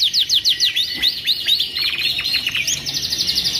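Rapid, bright birdsong fills the clip: a border canary trilling and warbling in quick repeated phrases, close and loud, with no voices.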